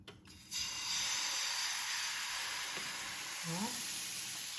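Pancakes made with starch fry in a hot pan, giving a steady loud sizzle that runs throughout, with a few faint clicks and a brief tonal squeak over it.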